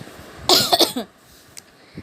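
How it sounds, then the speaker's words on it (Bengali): A short burst of coughing, three or four quick harsh coughs close to the mic, then quiet background. "একটু কাশি হচ্ছে"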